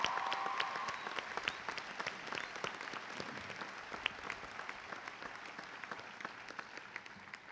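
A high school graduation crowd applauds for a teacher at the 2013 St Clair Shores Lakeview ceremony. Steady, distant clapping fills a large hall and fades slowly as it goes on.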